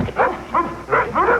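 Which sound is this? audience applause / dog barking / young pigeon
dog barking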